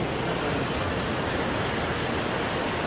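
Floodwater surging through a village in Madhubani during a flood, a steady, loud broadband roar of rushing water filling the scene without pause.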